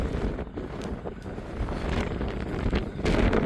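Cold wind buffets the microphone outdoors amid ice and snow at Sutherland, South Africa, a continuous low rumbling rush with gusts swelling toward the end.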